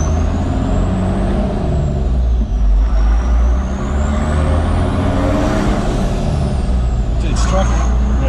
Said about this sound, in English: it's a big old truck